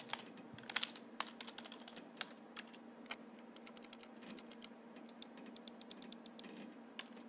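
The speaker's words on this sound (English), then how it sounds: "Oh, it's like a keyboard." Computer keyboard typing in the video game Everlasting Summer: quick bursts of crisp key clicks with short pauses, fairly near and faint over a low steady hum, with no voices.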